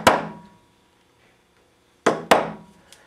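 A chisel struck to chip out a sharp corner in wood while fitting butler's desk hardware: one loud close knock, a pause of silence, then two quick sharp strikes in succession followed by a faint tap.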